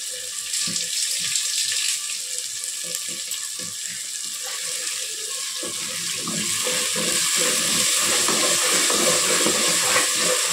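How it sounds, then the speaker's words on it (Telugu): Water runs and splashes steadily into a pan of palak rice pilaf, growing fuller and louder partway through, with faint sizzling and clinking underneath. "నీళ్ళు పోసేద్దాం."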